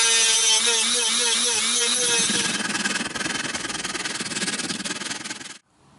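Loud, steady power-tool whine with dense abrasive grinding as 50-grit sandpaper works down a hard wooden guitar headstock, continuous for several seconds before cutting off abruptly near the end.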